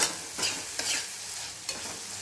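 Lemon and chilli sauté in a hot pan, a loud steady sizzle broken by a few quick scraping stirs of a spoon; nobody speaks.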